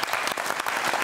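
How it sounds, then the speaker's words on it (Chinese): A studio audience bursts into applause, a dense, steady patter of many clapping hands throughout, loud and close with no speech over it. "哦，掌声鼓励，哎呦，鼓励，好啦。"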